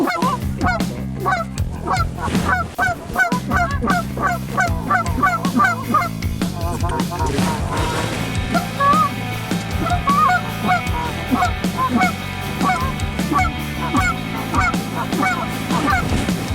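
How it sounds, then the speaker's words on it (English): A flock of geese honks loudly and continuously, many overlapping calls close by, with outdoor noise and no talking. "Big geese, low left."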